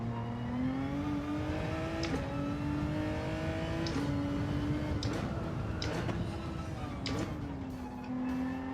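A race car engine in a racing game around Bathurst revs hard and steady, with repeated quick upshifts breaking the drone every second or two, close and continuous with no talk.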